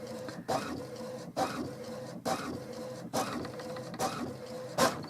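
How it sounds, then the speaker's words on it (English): An inkjet printer runs its alignment cycle, the print head sweeping back and forth in repeated mechanical passes about once a second, close and clear. "And so off it goes, it aligns the printer."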